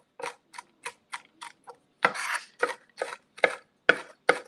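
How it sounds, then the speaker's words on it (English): Pecans being chopped with a knife on a cutting board, about a dozen crisp, evenly spaced taps, close and clear, the later strokes heavier and more crunching, with no talking. "So I'm gonna keep chopping until they're fairly small."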